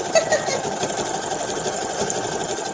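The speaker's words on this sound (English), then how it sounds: "I can really work a sewing machine" A sewing machine stitches steadily at close range, its motor humming and clattering continuously without pause.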